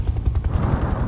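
Rapid bursts of helicopter machine-gun fire in a video game rattle continuously, a dense, punchy stream of shots with a low rumbling undertone.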